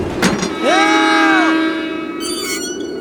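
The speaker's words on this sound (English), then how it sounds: "Stand back and exercise caution as your train arrives." A train pulls into a station in the video game Deponia Doomsday, sounding a loud, steady horn-like tone for about a second, followed by a brief bell-like chime.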